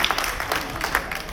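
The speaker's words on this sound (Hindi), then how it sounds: "जितने आए हैं उनके लिए जोरदार तालियां" Brief burst of audience applause for people who arrived during a tea-making demonstration, scattered claps at moderate level with faint crowd voices mixed in.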